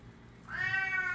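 An indoor cat lets out one loud, drawn-out meow, starting abruptly and holding steady to the end, alone with no voices.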